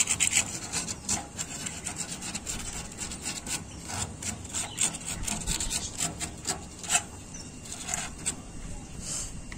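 Sandpaper is rubbed back and forth over a surface in short, rhythmic scratchy strokes. The sound is close and gritty, with faint background noise and no clear speech.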